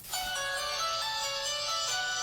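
A cheap phone bought online powers on with a loud, bright startup tone, sustained and ringing for about two seconds with no voices.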